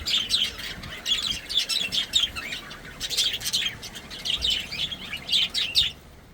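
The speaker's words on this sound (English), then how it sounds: "You are greeted by the chirping of a few budgies." Several budgerigars chirp and twitter in busy, overlapping bursts at a marina, fairly close, with a light background hiss and no talking.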